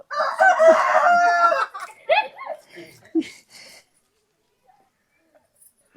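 A rooster crows loudly and close in the opening seconds, a long harmonic call, followed by a few shorter clucks and calls from the chickens before the yard goes quiet.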